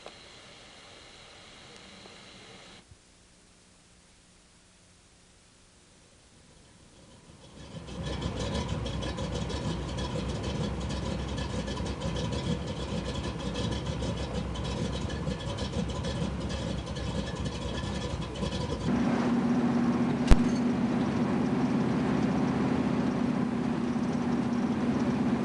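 A Pontiac 455 V8 running on pump gas rumbles steadily at close range, starting quiet then swelling into a loud sustained drone that rises further near the end with a brief sharp click.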